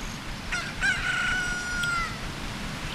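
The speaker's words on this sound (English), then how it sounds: "Or could I use the chicken?" Chicken (cucco) crowing from The Legend of Zelda: Ocarina of Time, a single drawn-out electronic rooster cock-a-doodle-doo of about a second and a half, clear and close over a steady game background hum.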